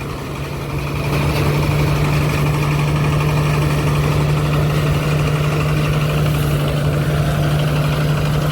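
A rice harvester engine runs at a steady idle, a loud, continuous low drone with a constant hum that swells in during the first second and then holds unchanged throughout, with no talking.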